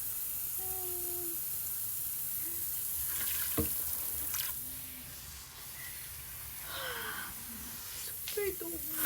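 Water running continuously while someone bathes and washes up beside a motorbike, a steady hiss with brief splashes and knocks, as someone talks and exclaims over it.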